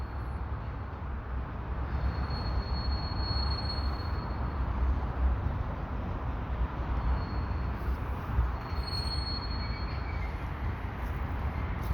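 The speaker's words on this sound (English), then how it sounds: "And this train's just stopping, isn't it?" A CN potash unit freight train rumbles steadily as it slows to a stop, low wheel and car noise with faint intermittent high squeals from the wheels.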